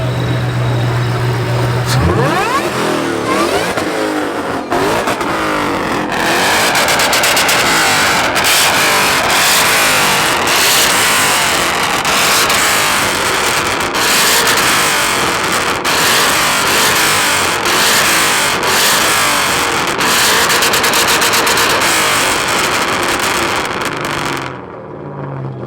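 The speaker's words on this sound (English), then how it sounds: "That motherfucking supercharger go crazy though." A supercharged car engine at a car show revs hard and repeatedly, with loud surging bursts over a rough running rumble, close by, before cutting off abruptly at the end; no clear speech is heard.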